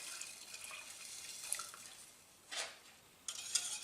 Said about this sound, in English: Now I'll add in the milk.